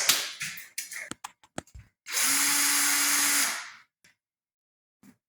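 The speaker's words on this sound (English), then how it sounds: "So I'm going to grab a screwdriver and get those screws out" A power screwdriver spins for a sustained whir of about a second and a half while removing screws from a shop heater, preceded by sharp handling clicks and taps, close up with no speech.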